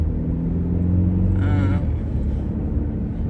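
Steady engine and road rumble from inside an SUV on the road, a continuous low drone with tire noise throughout and no speech.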